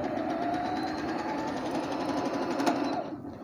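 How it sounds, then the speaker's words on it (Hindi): Singer 7900 electric sewing machine running steadily, its needle stitching in a fast, even mechanical whir close by that stops near the end. "ये बटन प्रेस करने से मशीन स्टार्ट हो जाएगी और सिलाई इसका स्टार्ट हो जाएगा"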